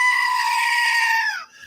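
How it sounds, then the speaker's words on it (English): A screaming goat sound effect plays at close range as one loud, sustained, strained bleat that holds steady and then breaks off sharply, with no talking over it. "How about some Screaming Goat?"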